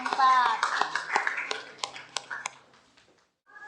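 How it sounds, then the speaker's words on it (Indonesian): A short burst of classroom clapping for a student group, with a few sharp claps over children's chatter and voices, fading out after a couple of seconds. "Diberi aplaus untuk kelompok"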